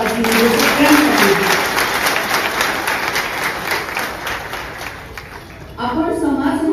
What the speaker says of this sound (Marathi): ते सगळं आपण करायचं का आता एकदा जोरदार टाळ्या वाजवून सगळ्यांसाठी.